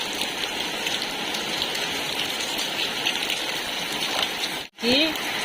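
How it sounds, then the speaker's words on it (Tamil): Steady night rain hisses continuously with wind, close and even, with a brief dropout and a short chirp near the end. "அப்போதுலேருந்து மழை பெஞ்சிட்டு இருக்கு"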